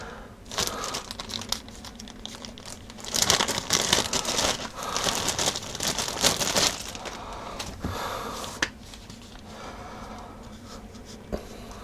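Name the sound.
peeling old ear pads off Denon AH-D7100 headphones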